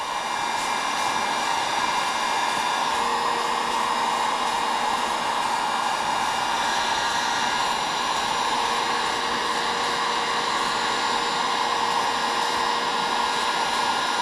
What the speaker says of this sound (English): And with your heat gun, you just want to make sure you get a good, nice coverage of the heat.